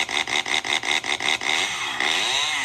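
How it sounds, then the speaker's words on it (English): A steady rasping, sawing drone with rhythmic pulses early on gives way to a continuous grinding whine, loud and close with no talking over it. "Chainsaw."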